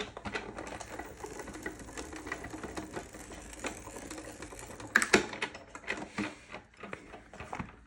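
A Sizzix Big Shot Plus die-cutting machine rolls material through on a tabletop, giving close, irregular clicking and ratcheting crank noises with a few sharper clacks, and no talking.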